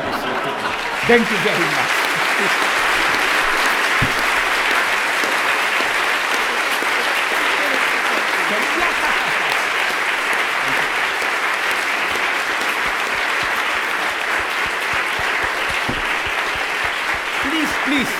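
A lecture audience applauds a speaker with sustained, dense clapping that fills the room throughout, while a voice briefly speaks over it.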